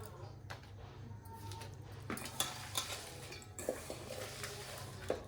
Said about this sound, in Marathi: मीठ टाकून आता मळून घेऊ.